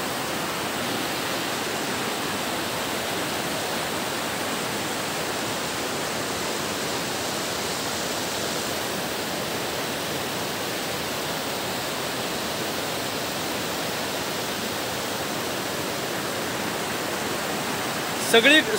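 Rushing water from the largest waterfall in a village, a steady broadband roar that stays constant and loud throughout, with a brief louder burst near the very end.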